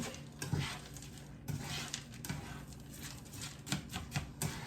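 Rice being stirred in oil in a pot, with soft scraping and light gritty patter repeating at an irregular rhythm, close and fairly quiet with no talk.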